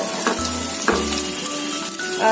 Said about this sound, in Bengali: পেঁয়াজটা আমি আর বেশি ভাজবো না, জাস্ট একটুখানি কালারটা চেঞ্জ হবে পেঁয়াজটা